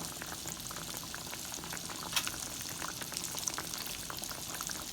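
Battered green tomatoes frying in a pan give off a steady, dense sizzle with scattered pops and crackles, close and fairly loud throughout, with no voices.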